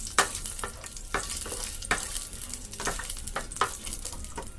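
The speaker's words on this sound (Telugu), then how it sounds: "ఇప్పుడు ఇందులో లాలిక్కాయలు లవంగీలు చెక్క మిరియాలు నాలుగు వేసుకొని ఫ్రై చేసుకుంటాం" Whole spices (cardamom, cloves, cinnamon and peppercorns) frying in hot oil in a pan for pepper chicken, a steady close sizzle with repeated sharp scrapes of stirring.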